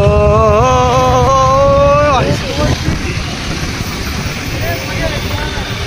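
A car accelerating in sports mode to overtake other vehicles at night, its engine note climbing in pitch and then dropping as it shifts, heard loud and close amid rushing road and wind noise.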